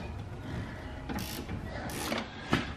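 A ratchet wrench with a 10 mm socket turning bolts on the steering of a 2004-onward Club Car Precedent golf cart, a few short bursts of close, clicking ratchet strokes ending with a sharp click.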